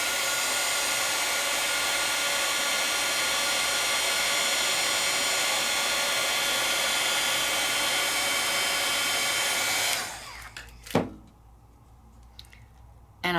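A handheld heat tool blows steadily to melt embossing powder on an adhesive rub-on, a loud continuous whooshing hum that cuts off after about ten seconds, followed by a few soft clicks and handling sounds.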